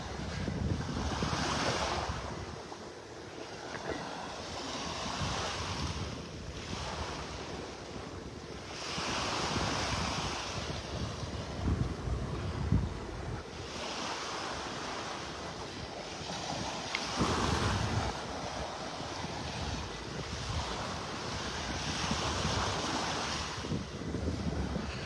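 Surf rolls onto a Gulf beach in North Naples, Florida on a morning walk, waves breaking and washing in repeated surges under constant wind buffeting the microphone, with no talking.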